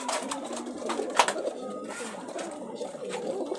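A Giribaj pigeon coos close by in soft, throaty, repeated bursts with short pauses between, alone and unaccompanied by voices.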